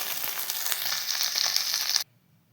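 Small fish fry in hot oil, giving a dense, close crackling sizzle for about two seconds before it cuts off suddenly into near silence.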